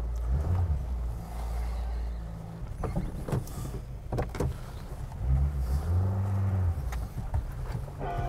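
A car pulls away with a steady low engine hum and some rolling noise. A few faint clicks and knocks sound over it, and the engine swells briefly near the end.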